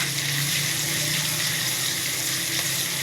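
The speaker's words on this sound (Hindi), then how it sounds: "कटा हुआ टमाटर डालेंगे।" Chopped tomatoes tipped into a browned mixture in a pan set off a loud, continuous watery sizzle and hiss that holds at an even level throughout.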